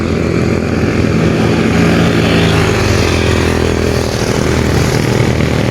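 Motorcycle engine drones steadily and loudly up close during a ride on a mountain road, a continuous rough hum with wind rush and no talking.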